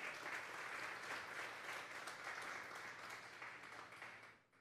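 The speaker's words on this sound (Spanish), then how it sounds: "Vamos a darle un fuerte aplauso al Señor esta mañana" A congregation applauds warmly during a Sunday morning church service, a dense, even wash of clapping that holds steady before tapering off at the end.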